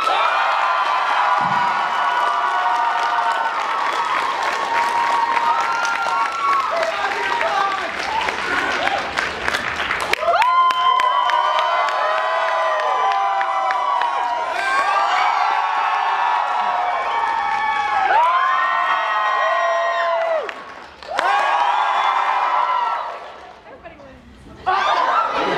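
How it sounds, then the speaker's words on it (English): A game-show crowd applauds and cheers for Team Green, with children shouting and chatter mixed in, loud and sustained before briefly dropping and rising again. "let's hear that round of applause."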